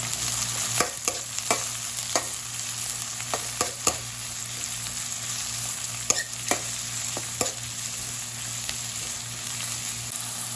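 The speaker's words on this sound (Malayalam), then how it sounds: "കട്ട് ചെയ്ത് വെച്ച് പച്ചമുളക് ഇട്ട് കൊടുക്കാം. എന്നിട്ടൊന്ന് ഇളക്കി കൊടുക്കാം." Cut green chilies fry with onion in a pan for a potato curry. A soft, steady sizzle runs throughout, broken by a series of sharp spoon scrapes as the mix is stirred. No one speaks.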